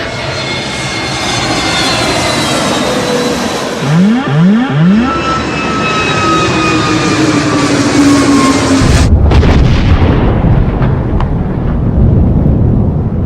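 A simulated airplane crash from a reconstruction of a plane crash: steady loud aircraft engine drone with falling tones, building to an abrupt burst and a dense, noisy rumble in the final seconds.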